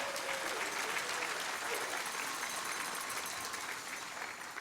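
A morning awards gathering for small businesses gives sustained applause to a county council member, dense clapping filling the room and easing slightly toward the end.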